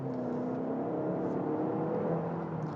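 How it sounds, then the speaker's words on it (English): Steady road and engine drone inside the cabin of a Cadillac XT4 AWD compact luxury SUV while driving, a continuous low rumble with a faint mechanical whir, even in level throughout with no talking. "So you can hear for yourself a little bit of that road noise and engine noise and other mechanical noises coming into the cabin"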